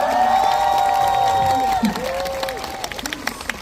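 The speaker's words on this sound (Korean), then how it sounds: "박수 한번 주세요." An outdoor concert crowd at a park in Daegu claps and cheers for a Korean traditional music ensemble, with whoops and shouts over steady applause that thins out toward the end as a voice carries through.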